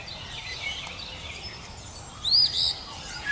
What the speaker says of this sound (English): A cardinal is a small-sized bird with a red-colored body.